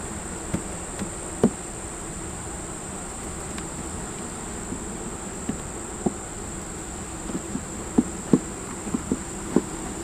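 Honeybees hum quietly around an opened backyard hive, a faint steady drone with scattered light clicks and taps from hive work, with no talking.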